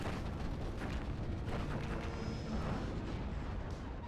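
A Leopard 2 tank is destroyed by an explosion in the war strategy game WARNO, heard as a faint, dense roar of blasts and rumbling booms blended into continuous battle noise.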